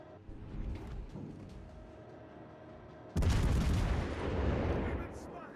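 Warship artillery in World of Warships: Legends lets loose one sudden heavy boom after a quieter rumbling stretch, its roar lingering and swelling again before slowly fading.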